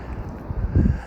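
Wind buffets an outdoor microphone with low, rumbling gusts that swell briefly toward the end. No voices are heard.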